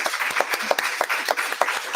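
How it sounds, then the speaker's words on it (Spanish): An audience claps at the close of a live radio broadcast in A Coruña, giving steady, moderately close applause throughout. "Venga, ese aplauso también."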